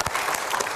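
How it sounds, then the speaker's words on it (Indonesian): Studio audience applause at a political talk show about millennial voters in the 2019 Indonesian presidential election; a brief, loud, dense burst of clapping with no talk over it. "kita berikan tepuk tangan dulu"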